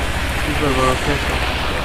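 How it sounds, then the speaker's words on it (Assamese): Heavy rain pours steadily beside a roadside shop in Upper Assam, a dense, continuous hiss close by that holds level from start to finish with no break. "গোটেই বৰষুণ পৰিছে"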